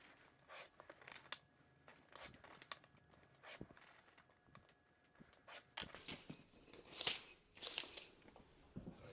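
A paper photograph being cut out against a straight edge, heard as faint, scattered scratchy slicing and rustling strokes with small clicks, close and quiet, no talk.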